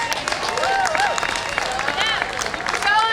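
A crowd at a Pride Day event applauds and cheers for a sponsor, with steady clapping and whoops, voices mixed in throughout.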